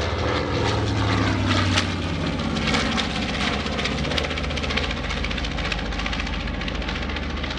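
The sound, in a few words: B-25 bomber aircraft flying past, World War II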